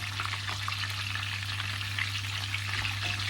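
Mackerel sizzling and crackling in hot oil, a steady close-up frying hiss with scattered pops and a low hum underneath.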